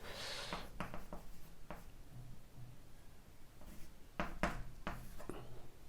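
Chalk or marker strokes on a board while a chemistry reaction product is written out, several short scratchy bursts in an irregular rhythm, close and fairly quiet, with no talking.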